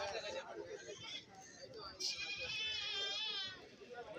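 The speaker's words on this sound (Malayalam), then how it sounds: "ഇവിടെ വലിയ മുട്ടനാടുകൾ ഉണ്ട്" Goats bleat with wavering, quavering cries amid the busy chatter of a crowd at a livestock market, one long bleat standing out close by.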